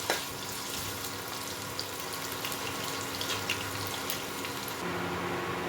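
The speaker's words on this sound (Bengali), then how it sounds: "আলুটা একটু হালকা করে ভেজে নেব।" Potatoes lightly frying in a pan, a steady soft hiss and crackle with a faint background hum, continuous and close, no voices.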